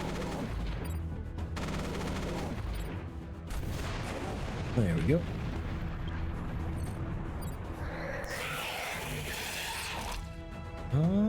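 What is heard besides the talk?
mech cannons firing in video game Mech Armada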